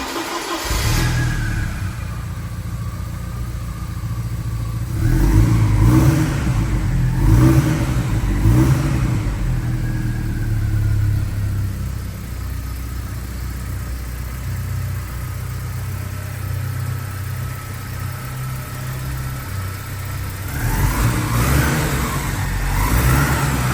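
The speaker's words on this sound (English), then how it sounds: "So I'm gonna go ahead and fire it up again for you." A 1989 Porsche 944 Turbo engine fires up and settles into a steady, fairly loud running note, with a few revving swells near the start and again toward the end, and no talking.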